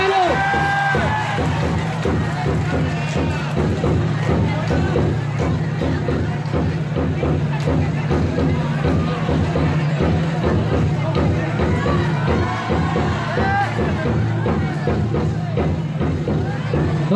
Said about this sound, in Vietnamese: khán giả cho một tràng vỗ tay của hai đội